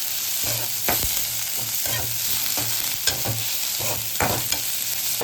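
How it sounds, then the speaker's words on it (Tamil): Onions are sautéed in a pan with a steady sizzle, while a spoon scrapes through them in repeated, fairly regular stirring strokes; no one talks. "வெங்காயம் நல்லா கொஞ்சம் நல்லா வதங்கிடுவோம்"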